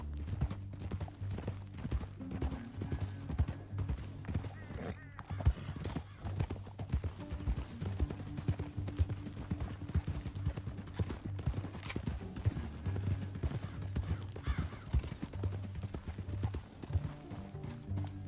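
Continuous clip-clop of horse hooves at a steady trotting rhythm in the video game Red Dead Redemption 2, with occasional faint whinnies, carrying on for the whole stretch without speech.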